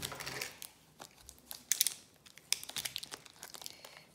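Quiet crinkling and rustling of packaging as a diamond painting parcel is unwrapped close by, with scattered crisp crackles and small taps in an irregular rhythm.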